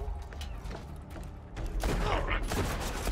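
Gunfire in the video game Borderlands 2 starts with scattered quieter reports, then swells into a loud, rapid burst of shots over a dense mechanical clatter.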